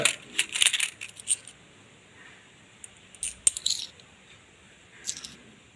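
Used Indian 5 and 10 rupee commemorative coins clink and jingle as they are handled, with a few sharp metallic bursts separated by quiet gaps, close and fairly faint.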